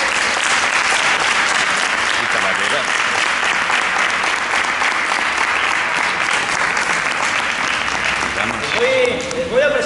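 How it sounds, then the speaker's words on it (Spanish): Loud, sustained applause from an audience for a group of fencers at a fencing exhibition in Zafra, steady dense clapping filling the whole stretch with some voices mixed in. "les dé un fuerte aplauso"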